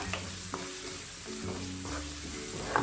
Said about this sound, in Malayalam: ഒരു 1/4 ടീസ്പൂണ് ജീരകവും ഇട്ടിട്ട് നന്നായി വഴറ്റിയെടുക്കുക.